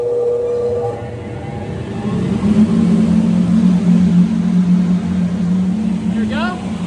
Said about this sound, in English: we're gonna turn our dust collection system on